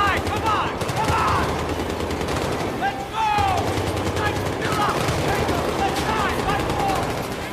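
Automatic gunfire and scattered shots ring out through a squad ambush in a parking lot in the shooter game Battlefield 3, with smoke being deployed, steady dense bursts under faint voices and brief lulls.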